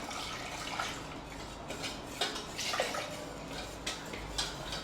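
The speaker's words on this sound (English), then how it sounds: "We're gonna add about a cup of milk." About a cup of milk poured into a warm pan, a continuous soft liquid rush with a few faint clinks and splashes, no voices.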